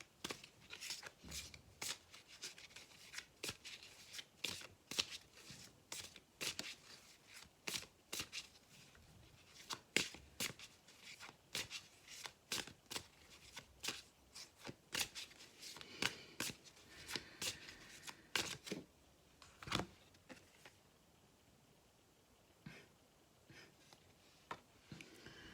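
A deck of oracle cards is shuffled repeatedly up close, giving fast irregular bursts of riffling and slapping that go on for about twenty seconds before thinning into a few quieter flicks.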